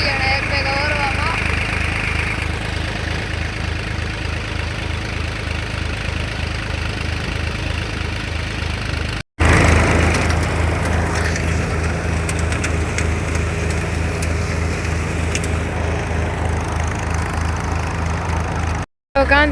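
A Massey Ferguson 245 DI tractor engine runs steadily with a low, regular diesel throb at a farm during cumin harvesting, loud and close, cut by two short dropouts, with machinery rattle over it.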